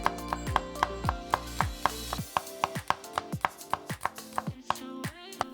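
A knife chops garlic on a cutting board for a vegan chickpea curry, giving a quick, close run of sharp, evenly spaced taps that briefly pause and then resume at a slightly uneven pace.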